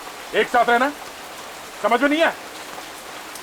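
Steady rain falls throughout as a constant hiss beneath two short bursts of a man's speech in a tense scene.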